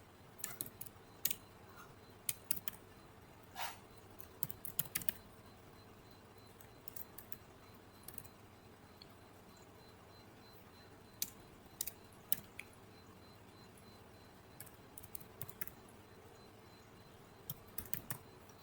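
Typing on a computer keyboard while entering a Linux command, scattered quiet clicks in bursts with pauses, faint and close, with no voices.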